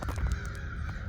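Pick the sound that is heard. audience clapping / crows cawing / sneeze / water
crows cawing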